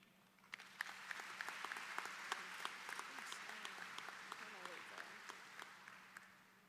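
An audience at the Fort Valley State University fall convocation gives sustained applause: dense, steady clapping from a large crowd, with a few sharper claps standing out and a faint voice beneath.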